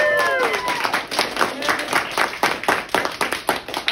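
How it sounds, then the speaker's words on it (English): Audience in a room claps and applauds for a teacher after a taekwondo board-breaking demonstration, a dense, steady patter of many hands with some voices and whoops over the top throughout. "Everybody give her one more big round of applause."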